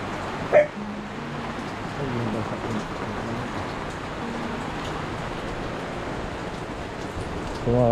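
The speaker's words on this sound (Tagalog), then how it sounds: "Nabot na po tayo ng ulan." Steady rain falls and patters on surfaces at an even, moderate level, with a brief vocal sound near the start and faint voices beneath.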